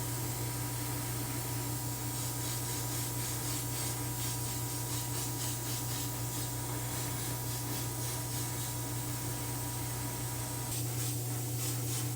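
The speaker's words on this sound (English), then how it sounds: "So I'm going to give these a good Scotch-Brite." Small parts of an old Matchbox car are scuffed with a Scotch-Brite pad, producing a dense, constant abrasive rubbing hiss over a steady low hum, close and unbroken throughout.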